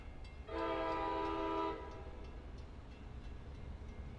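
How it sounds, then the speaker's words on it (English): A Long Island Rail Road train sounds its horn at Mastic-Shirley station, a steady multi-tone blast lasting just over a second over a low rumble of rail traffic, with no talking. "Train is just crossing William Floyd Parkway right now."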